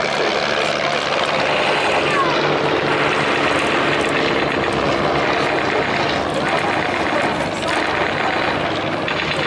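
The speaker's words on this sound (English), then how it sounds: "Now just climbing our way to the centre now is a German marking Fokker DR1 triplane." A German-marked Fokker DR1 triplane flies at the Bournemouth Air Festival, its propeller engine droning steadily and loudly overhead, with a faint commentator's voice beneath.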